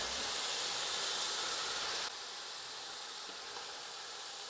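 Whole spices (garam masala, bay leaf, cinnamon stick, star anise, clove) frying in a pan over a high gas flame, giving a steady, fairly loud broadband sizzle that drops slightly midway and carries on without talk.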